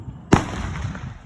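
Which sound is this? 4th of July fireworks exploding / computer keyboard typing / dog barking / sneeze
4th of July fireworks exploding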